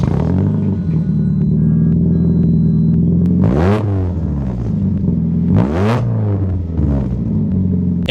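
A cheap junkyard Mazda Miata runs roughly while driving, its engine droning steadily up close with two sharp revving surges partway through, then settling back to a low, uneven hum.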